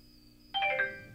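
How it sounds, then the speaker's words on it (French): A phone's text message alert in a Breaking Bad episode: a short bright chime of a few bell-like tones that rings out and fades within about half a second, heard alone after a faint steady tone. "Il a reçu un texto."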